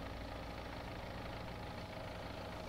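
A tractor engine idles in Farming Simulator 17, a steady low mechanical drone at constant level with no change in pitch throughout.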